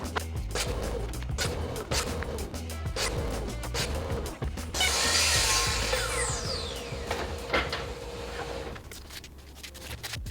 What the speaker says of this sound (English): next I cut the bottom panels and 1x4 stretchers to length at the miter saw